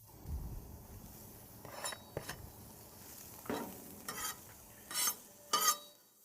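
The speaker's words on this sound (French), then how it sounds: "Je vais donc simplement continuer à remuer constamment ces oignons." Onions sautéing in avocado oil with a quiet sizzle, stirred by a silicone spatula in scattered soft scraping sweeps that grow a little louder toward the end, heard close with no talking.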